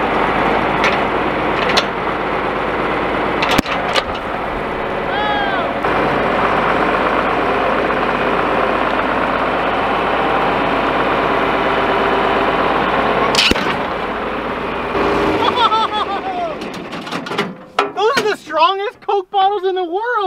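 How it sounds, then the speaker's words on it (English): Farm tractor engine runs at a steady, heavy low drone for most of the time, with occasional sharp knocks and bangs, then cuts out near the end as voices and excited exclamations take over. "We're gonna try it with the tractor one more time."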